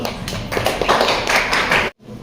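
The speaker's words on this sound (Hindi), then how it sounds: "तालियों से इस्तकबाल" A mushaira audience greets the poet Zubair Ansari with loud, dense applause that swells and then cuts off abruptly near the end.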